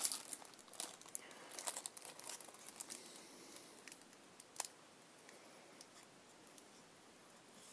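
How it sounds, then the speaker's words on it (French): Adhesive tape being slowly peeled off paper while scrapbooking, soft intermittent crinkles and sharp little ticks, close and quiet, with no talking. "Je défais tranquillement mes scotch."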